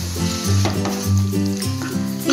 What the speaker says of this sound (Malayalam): ഇതെല്ലാം കൂടി നന്നായിട്ടൊന്ന് യോജിപ്പിക്കാം.